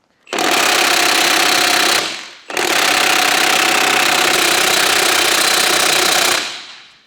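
Impact wrench hammers at bolts on a Porsche 356 gearbox in two loud, rattling bursts, a short one followed by a longer one, close up with no talk.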